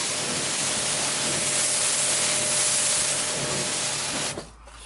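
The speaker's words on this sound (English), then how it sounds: "I'm going to spray the bonnet now just to show you." Water sprays steadily onto a car bonnet during a wash with wax shampoo, a loud continuous hiss lasting about four seconds before cutting off abruptly.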